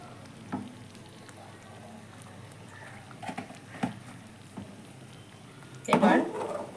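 Ghee added to a pan of khichuri with roasted spices, giving a soft steady sizzle under a woman's speech, with a louder crackling burst near the end.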